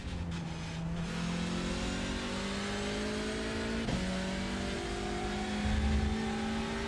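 TCR race car engine at full throttle on the Daytona circuit, a steady loud drone with rising pitch as it accelerates through the gears, a brief dip at a shift, heard from inside the car with no talking.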